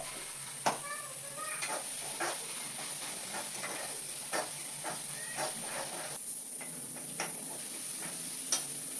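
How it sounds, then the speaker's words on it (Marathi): Onion and tomato fry in a pan with a steady hiss and sizzle, broken by occasional sharp ticks and spoon scrapes as the mixture is moved around, heard up close. "कांदा आणि टोमॅटो दोघी छान भाजले."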